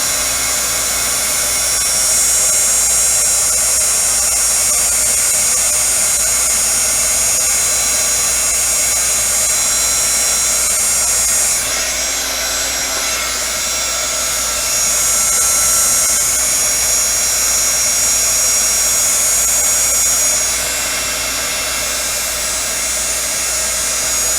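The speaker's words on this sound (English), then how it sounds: "Now you can go behind it and heat it as well, just to make sure that I've got everything melted." A heat tool blows steadily and loudly for about 24 seconds, a continuous roaring hiss with slight shifts in pitch as it is moved around, melting embossing ink on a Valentine card.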